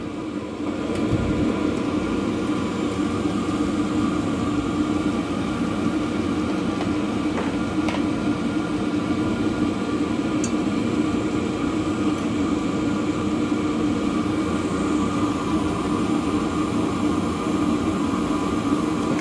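A cheap Chinese 5 kW diesel heater burns a vegetable oil and diesel mix with a steady, droning combustion roar and fan hum that continues unchanged throughout with no talking.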